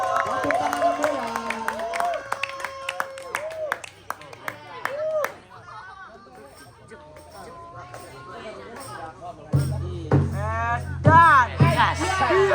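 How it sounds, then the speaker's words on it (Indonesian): Audience applause breaks out at a live monologue stage performance, with claps in bursts mixed with crowd murmur and cheering, rising again loudly near the end; music and other sounds run alongside. "Tepuk tangan semua."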